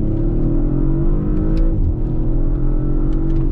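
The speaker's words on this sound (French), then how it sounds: "Donc là on va faire un peu l'essai de cette Audi RS5" An Audi RS5 with a V6 biturbo engine and quattro drive accelerating hard, heard loud and close from inside with a deep steady engine roar and a brief dip at a gear shift, no talking.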